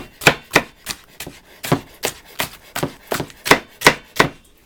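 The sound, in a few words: knife julienning red pepper with a rocking motion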